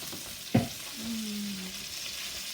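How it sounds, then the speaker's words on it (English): Brussels sprouts dropped into a pan of browned butter give a sharp splash, then a steady, soft frying sizzle that carries on at close range. "Here it's sizzle."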